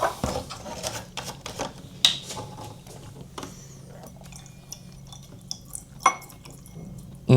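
Rinsing a pH electrode of an AZ-8698 pH and conductivity meter with water and shaking off the last drops gives irregular small drips, splashes and light plastic clicks, fairly close and quiet between sharper taps.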